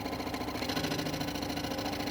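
A scroll saw cutting a small, thin piece of wood along a curve, giving a steady mechanical hum and buzz with no pauses from start to finish.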